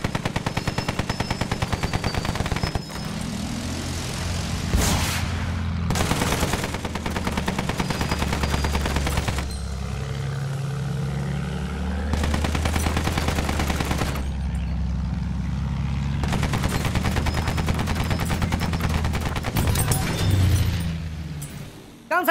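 An anti-aircraft gun in an air-combat video game fires long rapid bursts of heavy automatic gunfire, broken by short pauses, over a constant low engine drone.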